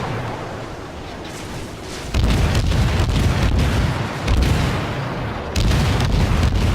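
Naval gunfire in World of Warships, with sustained booming salvos and dense roaring blasts that start abruptly and keep rolling, loud and heavy, with no talking.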